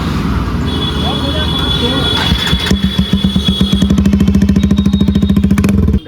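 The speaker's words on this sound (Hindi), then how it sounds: "तो एक बार बिना एग्जॉस्ट के साउंड सुन लो एक बार।" A Hero Xtreme 125R motorcycle engine, run with no exhaust fitted, fires up and settles into a loud, rapid, rough idle, its evenly spaced pulses thumping close by with a raw, unmuffled rasp.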